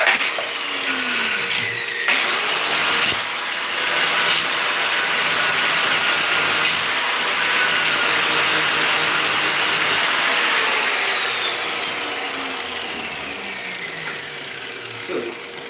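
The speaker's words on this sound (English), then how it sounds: "I've got a grinding disc on" Grinding disc working steel khukuri stock, a loud, close, continuous abrasive whine and rasp with shifting pitch, holding steady for most of the stretch before easing off toward the end.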